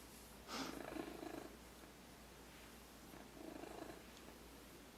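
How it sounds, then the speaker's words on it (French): A cat purrs softly and close, in two rumbling breaths with a quiet pause between them. "On entend... C'est Fudge qui ronronne?"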